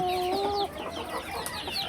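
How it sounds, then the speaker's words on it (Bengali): Laijja chicken chicks cheep over a farmyard background, with a couple of sustained high whistling calls at the start and scattered bird peeps throughout. "এই হচ্ছে গিয়ে মনে করেন আমার খামারের মুরগির বাচ্চা"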